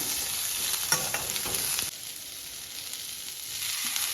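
Cashews frying in a pan, a steady hissing sizzle with a few stirring scrapes early on, then the sizzle drops a little and continues evenly, close and unbroken, no talking.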